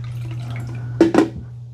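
Water is poured into the container of a Tineco Floor ONE Stretch S6 wet dry vacuum, a brief close splash and drip of about half a second over a steady low hum.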